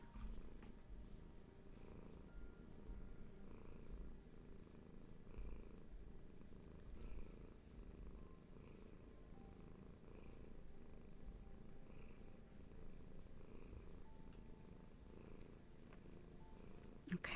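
A cat purrs as a steady, low, continuous rumble close by and fairly quiet, running unbroken through the stretch with no talking over it.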